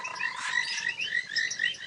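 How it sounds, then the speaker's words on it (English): A chorus of frogs croaks and trills steadily from puddles at sunset on an African safari, overlapping calls at a moderate distance with no voices. "I love coming and sitting and listening to the frogs calling like this."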